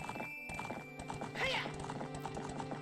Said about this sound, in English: Wow, there's the other horse that runs around here.